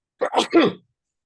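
A single close, sharp human sneeze in a quiet room, a brief inhaled lead-in followed by a short explosive burst.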